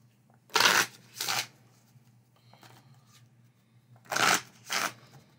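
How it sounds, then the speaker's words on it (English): Playing cards from a Draft & Write Records board game are riffle-shuffled in two quick bursts, a pause, then two more close, crisp shuffles over a low steady hum. "I'll just give that a couple of quick shuffles"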